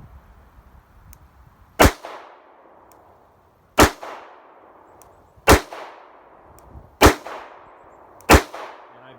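A Ruger SP101 revolver fires factory ammunition at an outdoor range: five sharp, loud shots spaced roughly two seconds apart, each followed by a short ringing decay.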